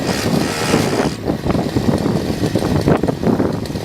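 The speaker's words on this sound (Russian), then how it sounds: "Когда двигатель находится в режиме бурения, вот он начинает глохнуть." A small two-stroke engine on an ice auger bogs down and sputters while drilling, its rough running noise breaking off partway and continuing in ragged, uneven bursts close by.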